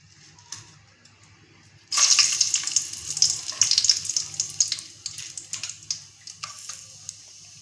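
Cinnamon, cloves and cardamom drop into hot ghee and coconut oil, setting off a sudden hissing sizzle that crackles and pops, then gradually fades and thins into sporadic spits, heard close up.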